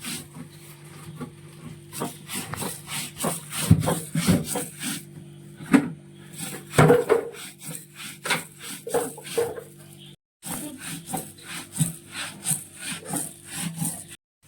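Prawn chutney being ground by rolling a stone back and forth over a flat grinding stone, giving repeated gritty scraping and rubbing strokes, close and fairly loud, with a steady low hum underneath and no talk.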